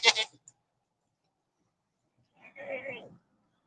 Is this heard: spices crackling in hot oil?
no